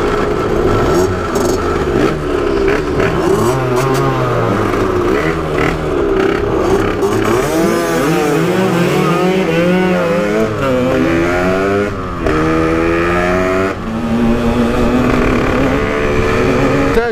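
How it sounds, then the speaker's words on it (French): A motorcycle engine makes an odd, irregular noise, running loud and continuous at close range with shifting, wavering tones throughout and no talk over it. "C'est un bruit bizarre sur la moto"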